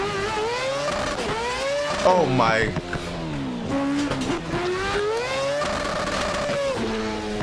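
Race car engine in the Assetto Corsa video game, on the Union Island map with traffic, held against the rev limiter with a steady buzzing drone and a brief tire squeal, while a voice reacts over it.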